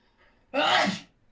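A single sharp sneeze bursts out loudly and close after a moment of near silence, then fades quickly.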